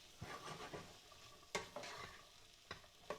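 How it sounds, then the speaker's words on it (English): Potatoes being stirred into browned onions in a pan while cooking aloo brinjal achari: a soft sizzle runs underneath as a spoon scrapes and knocks against the pan in several distinct strokes, near and fairly quiet. "Give them a stir in with the onions."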